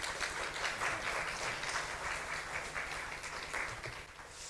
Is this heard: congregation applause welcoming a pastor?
yes